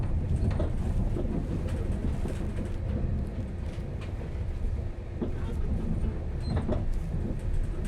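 Passenger train running from Crewe to Manchester Piccadilly, heard from inside the carriage as a steady low rumble and rattle of wheels on track, with occasional knocks and brief swells of noise.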